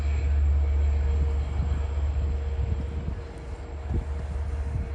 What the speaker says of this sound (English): Port Jeff scoot train to Huntington.